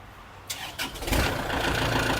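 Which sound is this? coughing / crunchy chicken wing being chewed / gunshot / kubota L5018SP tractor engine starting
kubota L5018SP tractor engine starting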